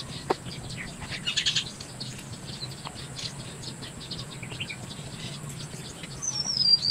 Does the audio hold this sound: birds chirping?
yes